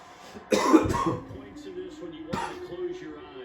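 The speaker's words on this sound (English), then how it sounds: "every time I get excited, I just start coughing" A loud burst of coughing or throat clearing up close, followed by quieter sounds and a second short cough.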